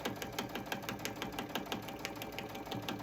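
Sewing machine punching through a foam dish drying mat, a fast regular thumping stitch rhythm with a whirring motor underneath, close and steady throughout.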